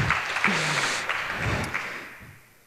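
A short round of applause from an audience at a hacker conference talk, a brisk spatter of clapping that thins and fades away over a couple of seconds.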